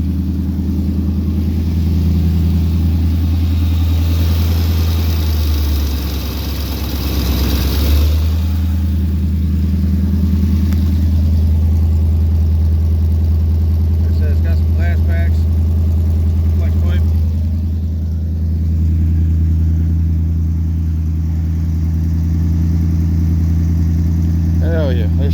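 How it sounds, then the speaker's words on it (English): A 1957 Chevy car engine idling a little high, a loud, steady low rumble close by that holds for about twenty-five seconds, with a brief dip in the middle. "Just idling a little high."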